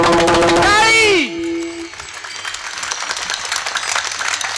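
An audience claps during a Marathi kirtan held on Maharashtra Day. A sung voice comes first, then a scattered, fairly close clatter of hand claps continues to the end.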